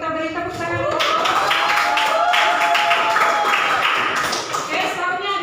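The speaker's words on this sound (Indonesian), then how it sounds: "Kita beri tepuk tangan." A classroom of students claps together for a group's correct answer, a short bright burst of clapping with pitched tones and background voices underneath.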